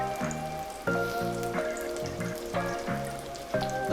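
Turkey meatballs brown in a hot pan with a steady sizzle and spatter, and repeated clinks and taps of a utensil or pan sound through it at a regular rhythm.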